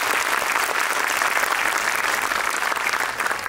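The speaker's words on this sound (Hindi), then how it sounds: "तो जोरदार तालियां हो जाएं सबके पार्टिसिपेंट्स के लिए" Loud, dense applause from a crowd honouring the participants at the opening ceremony of a dance show, a steady wash of clapping that holds at full strength for the whole stretch and eases only slightly near the end.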